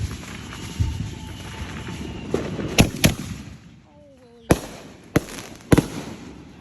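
Store-bought fireworks set off at a house for the Fourth of July crack and pop in sharp separate bangs, several loud close reports with a whistling rise between them over outdoor background noise.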